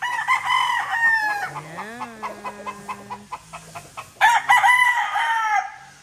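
A young broodstag rooster crows once, with its long rising and falling call in the middle, while hens cluck nearby on a farm. No one speaks.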